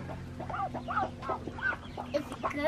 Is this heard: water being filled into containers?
no